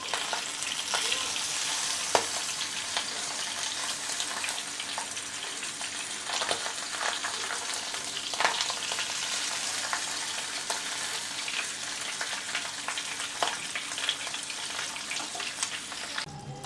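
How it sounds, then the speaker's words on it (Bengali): A whole bacha river fish fries in hot oil in a pan, giving a steady close sizzle and crackle throughout with occasional sharper pops and spatters, no talking. "প্রায় 3 মিনিটের মতো আমি ভেজে নিয়েছি"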